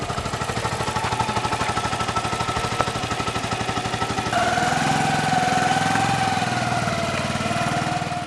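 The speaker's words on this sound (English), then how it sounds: "As usual, the traditional birth attendant accompanies the woman on the motorbike." A motorbike engine runs steadily with a fast, even putter throughout, then shifts to a higher, strained tone partway through as it pulls away, loud and close, with no talk over it.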